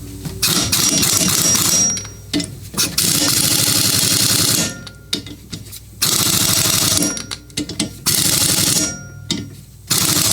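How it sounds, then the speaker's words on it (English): Pneumatic impact gun set on low rattles a blade bolt on a Honda HR/HRX series lawn mower, several loud buzzing bursts of a second or two each separated by short pauses, close up. "pretty much I just use this gun"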